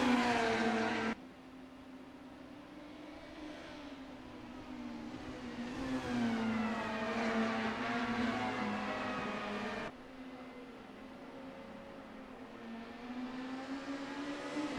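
Super Tourer race cars lapping the Nurburgring GT circuit in Assetto Corsa, engine notes climbing steadily through the gears with abrupt cuts where the sound shifts, a sustained whine throughout, moderately loud and with no talk.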